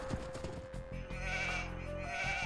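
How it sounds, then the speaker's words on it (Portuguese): Sheep bleating in the Age of Empires 2 HD strategy game, a sustained wavering bleat standing out over the busy game soundscape, fairly loud and without talk. "Ali estão as ovelhas."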